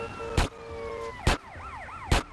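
An ambulance siren in GTA San Andreas wails in a repeating up-and-down pattern, steady and fairly close, broken by three sharp loud impacts.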